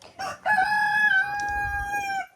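A rooster crows once, loud and close, a long drawn-out call with a bright harmonic tone that holds steady before trailing off.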